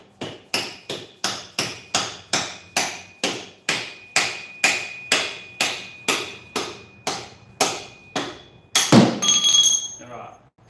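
Hammer blows strike XS250 motorcycle engine parts, about twenty sharp, evenly spaced metallic whacks close by, ending in a louder, ringing clank.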